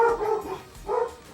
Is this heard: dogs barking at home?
yes